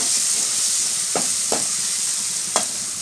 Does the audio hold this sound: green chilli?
yes